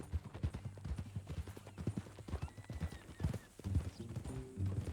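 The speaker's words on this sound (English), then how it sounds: "That a new horse?" Horse in the video game Red Dead Redemption 2, hooves clip-clopping in a steady walking rhythm with a brief whinny, fairly close and moderately quiet, with faint game speech in the background.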